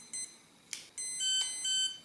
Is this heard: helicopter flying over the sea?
no